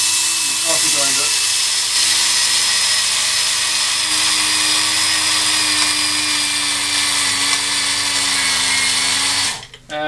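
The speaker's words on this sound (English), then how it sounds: "we're gonna grind a batch of chia seeds" A coffee grinder whirs loudly and steadily as it grinds chia seeds, a dense high buzzing that runs without pause for nearly the whole stretch before cutting off abruptly at the end.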